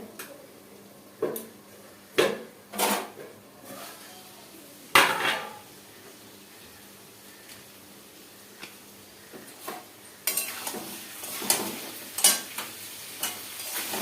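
Pots, pans and utensils clatter in a home kitchen while eggs and soya chunks are stir-cooked together, with sharp scattered clanks and scrapes at irregular intervals over a faint sizzle, no talking.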